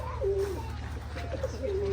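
Doves or pigeons coo repeatedly at an animal enclosure on an excursion in Morocco, soft rolling calls close by over steady low background hum.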